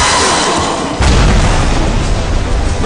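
A rocket explosion effect in an audiobook thunders as a single loud, deep boom that hits sharply and then rumbles on steadily to the end.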